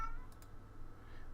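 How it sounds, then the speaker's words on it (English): A pet cat gives a single short, faint meow at the very start, then only quiet room hum remains. "There's my cat."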